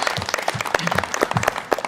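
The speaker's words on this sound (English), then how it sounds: "Yeah, I think that's worth some applause." Brief burst of audience applause at a community gathering supporting library volunteers, dense, steady clapping over two seconds with a voice faintly mixed in.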